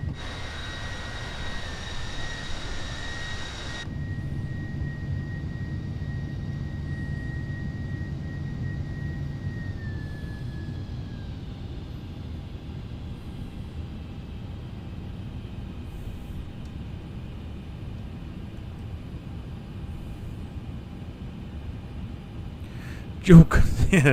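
Steady broadband jet engine roar of a Delta 767-300ER climbing in Microsoft Flight Simulator 2020, a constant drone with a faint whine near the start and a brief bump at the end.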